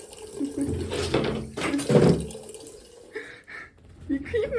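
A cat laps water from a running kitchen tap as water streams and splashes into the sink, close by, while someone talks and laughs over it.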